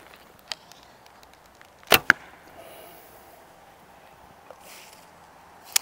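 A reflex bow shoots heavy arrows at a 34-inch draw, with two sharp, close impact thwacks in quick succession against a quiet outdoor background, followed by a faint later tap.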